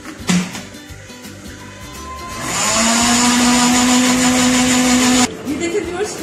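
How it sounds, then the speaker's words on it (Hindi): Electric blender whirring as it blends coconut with milk for a homemade coconut firni, a steady loud motor drone of about three seconds that starts abruptly and cuts off, with a person talking before and after. "हमने कोकोनट को हमने दूध के साथ हमने ब्लेंडर में ब्लेंड कर लिया है"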